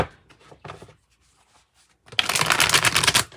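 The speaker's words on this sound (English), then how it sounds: "Let me shuffle it a little bit like this and then go ahead and cut the deck." A deck of tarot cards is riffle-shuffled nearby, with a few soft card flicks early on and then a dense, loud burst of flapping and riffling for over a second.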